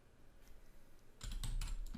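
Quiet room hush gives way to a short burst of computer keyboard typing, several crisp close keystrokes clustered in the final second.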